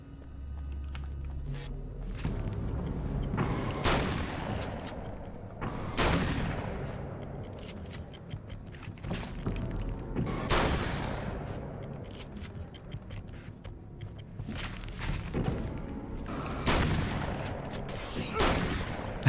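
Gunshots ring out in the video game Alan Wake's American Nightmare, a series of loud, sharp bursts spaced every few seconds over a dim, rumbling game backdrop.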